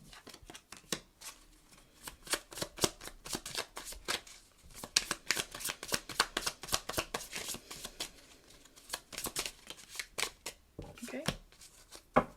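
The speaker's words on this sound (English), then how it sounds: "So I'm just going to pull 3 cards with this half and then 3 cards at the end." Tarot cards being shuffled and handled at close range, a quick run of crisp riffling flicks and slaps in bursts, quiet and alone with no talking.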